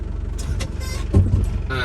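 Loud engine drone fills the poorly soundproofed cab of an Isuzu NPR/NKR truck, with a low steady rumble and a brief heavier surge partway through.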